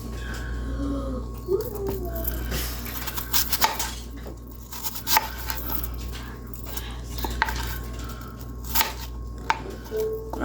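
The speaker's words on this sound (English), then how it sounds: "Choppy choppy." Knife chopping apples on a cutting board for homemade apple sauce in a home kitchen, a steady run of close, sharp taps with faint clinks of dishes, and a voice talking briefly in the background.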